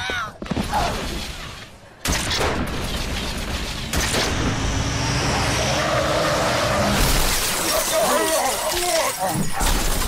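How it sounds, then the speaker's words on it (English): A vehicle crashes into and smashes a group of brutes in Halo 3 ODST, with loud metallic impacts, crunching debris and scraping mixed with shouting voices and dense game action noise. "A car just came out of nowhere! Smashed all the brutes!"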